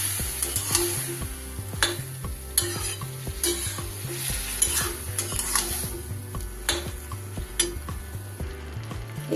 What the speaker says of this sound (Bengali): এবার আমি সিদ্ধ করে রাখা ডাল, চাল কুমড়ো, উচ্ছে একসাথে কড়াইতে দিয়ে দেব।